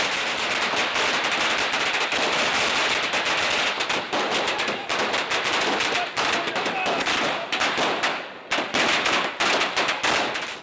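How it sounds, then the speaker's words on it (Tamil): Firecrackers set off on a man's head at an AIADMK party worker's celebration of the Chief Minister's birthday, a dense, continuous rattle of loud blasts and crackling pops lasting throughout, with brief dips near the end. "அதிமுக தொண்டர் ஒருவர் தலையில் வெடியை வைத்து வெடிக்க வைத்தது"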